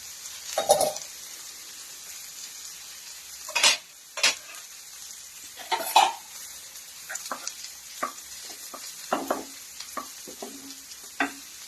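Onions and vegetables sizzle in a hot pan with intermittent scraping and stirring clatters, fairly close and moderate in volume, no voices.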